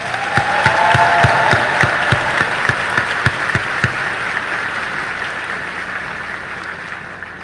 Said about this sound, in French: puissent nos applaudissements sincères t'inonder de joie